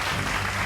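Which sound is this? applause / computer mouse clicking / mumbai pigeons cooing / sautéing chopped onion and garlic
applause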